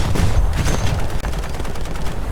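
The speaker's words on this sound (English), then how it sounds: "We'll give him a taste of the rear gun." Rapid bursts from an aircraft's rear gun in War Thunder, loud and continuous, dense crackling shots layered over the steady roar of battle, with no talking.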